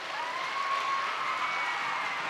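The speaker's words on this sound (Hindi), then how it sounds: "उन्होंने और बात पे ताली नहीं बजाई लेकिन प्रसाद के नाम पे ताली बजाई।" Students clapping together in a steady, even burst of applause from a crowd, sustained and moderately loud with no pauses.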